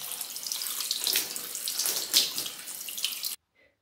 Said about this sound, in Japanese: シャワーの出方やばい。